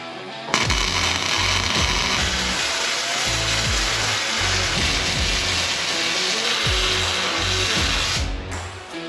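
Welding on the left-side spindle mount of a 500hp big-block car: a close, steady crackling buzz that starts abruptly, holds for about eight seconds and cuts off, with no talking.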